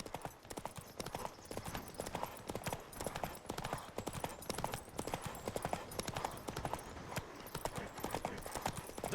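Horse hooves galloping fast during a horse race in The Witcher 3: Wild Hunt, a dense, rapid, continuous clatter of hoofbeats with an occasional neigh, loud and close, running for the whole stretch.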